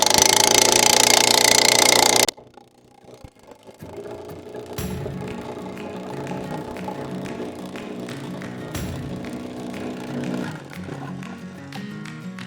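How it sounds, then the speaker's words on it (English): Engine-driven post driver starts with a loud burst, pauses, then settles into rapid steady hammering as it drives star pickets into the ground, with the small engine running underneath throughout. "We'll give it a go at driving in some star pickets."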